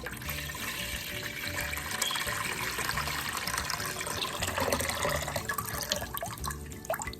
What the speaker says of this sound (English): you're gonna pour your half a gallon of Kool-Aid into our bowl